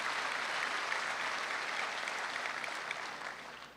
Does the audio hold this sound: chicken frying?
no